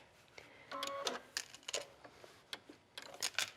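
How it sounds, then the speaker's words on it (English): Sewing machine running a triple stitch at 3.5 to 4.0 length around the lining of an A-line skirt, heard close as short irregular bursts of mechanical ticking and clicking. "And I'm just going to stitch all the way around"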